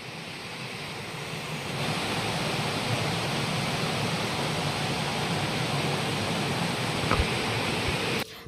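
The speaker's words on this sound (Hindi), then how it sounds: "चलंतु दर्शक माने देखिबा हम झरना" Waterfall at Chakratirth in Keonjhar, a steady broadband rush of falling water that grows louder after the first two seconds and holds constant, close and continuous with no voices.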